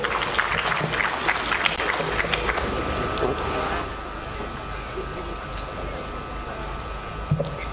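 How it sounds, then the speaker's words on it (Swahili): An audience at the opening ceremony of the 46th Sabasaba international trade fair applauds to welcome a guest, a dense burst of clapping that fades after a few seconds into a quieter hall with a steady hum. "Naomba tumpigie makofi"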